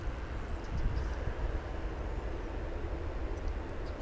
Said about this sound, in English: We've got another Dreamliner coming in.